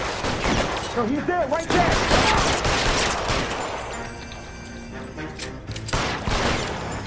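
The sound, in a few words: gunfire in the video game L.A. Noire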